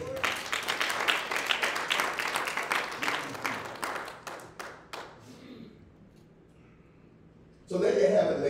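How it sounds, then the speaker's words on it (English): A church congregation gives a hand clap for the Lord. Loud rhythmic clapping gathers into distinct claps, then tapers off to near quiet before a voice speaks again. "Give the Lord a hand clap"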